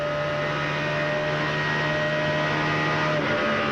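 A NASCAR stock car engine from the 2002 Pennsylvania 500 holds a steady, high revving drone around 9,200 rpm through a turn, loud and continuous with no gear changes.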